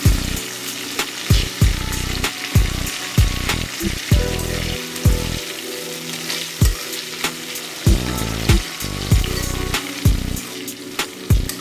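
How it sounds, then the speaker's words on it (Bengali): Chopped tomato and onion with a pinch of salt fry in oil, sizzling continuously as a spatula scrapes and knocks the pan in frequent, uneven strokes, close and loud with no voices. "টমেটো আর পেঁয়াজটা ভালো করে ভাজবো।"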